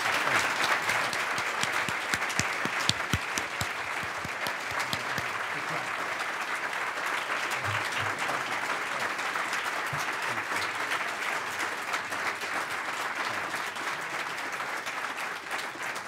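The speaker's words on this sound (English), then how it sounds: "now you all get to applaud" Audience applause fills a City Club hall after a candidate's closing statement at an Ohio Attorney General debate, steady sustained clapping from a crowd that holds at an even level throughout.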